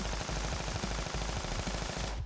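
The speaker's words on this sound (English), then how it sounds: "Okay, chain gun." A chain gun fires in the RPG YIIK as one long, loud stream of rapid shots with an even rhythm, running on its own for about two seconds before it stops abruptly.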